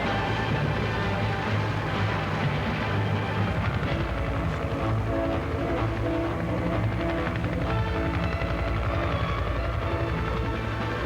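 One scout and two attack helicopters in flight, a dense, steady rotor and engine roar with rhythmic chopping, loud and continuous throughout with no voices.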